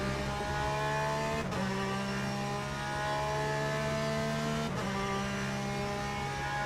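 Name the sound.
Porsche 911 GTE race car engine in Le Mans Ultimate video game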